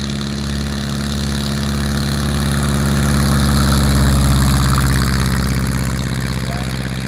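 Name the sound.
Porterfield light aircraft 65 horsepower engine running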